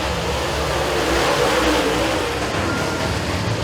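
Race cars accelerate at the green flag on a speedway, a dense steady roar of several engines heard at a distance with no talk over it.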